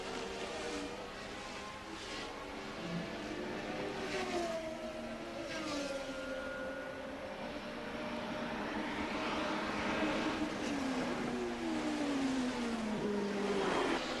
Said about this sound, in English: while Prost's turbo has more power down the straight, Jones is right up behind him into the stadium.